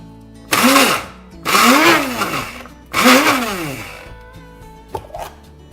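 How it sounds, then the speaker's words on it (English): A kitchen blender grinds green chilies, garlic, ginger and green peas into a coarse paste, three loud whirring bursts with rising and falling pitch, then a quiet tail and a small knock. "We'll also add in the green peas. Blend to a coarse paste."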